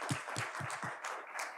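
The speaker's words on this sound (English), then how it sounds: "So round of applause for Nicholas" A tech conference audience at JuliaCon 2023 gives a short burst of applause for a community member. The clapping is brisk and full, with several heavy low thumps in the first second.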